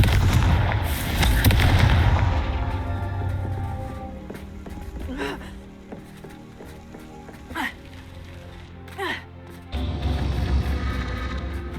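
A Confringo fire blast spell in Hogwarts Legacy gameplay bursts out as a loud crackling, firework-like explosion, followed by softer whooshing magical effects and another booming blast near the end.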